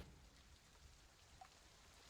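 Rain from a frost giant battle soundset, a faint, steady hiss of falling drops with no other sounds on top.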